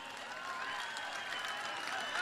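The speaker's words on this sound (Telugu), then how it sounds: "ఈ సమావేశంలో ప్రతి ఒక్కరూ గట్టిగా చప్పట్లు కొట్టి" Audience at an NTR centenary meeting clapping in unison, a continuous faint wash of applause heard from a distance, swelling slightly toward the end.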